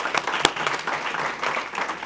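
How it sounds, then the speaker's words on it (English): Audience applause at a town board meeting: a brief burst of many hands clapping, fairly close and steady, with one sharp clap standing out. "give yourself an applause"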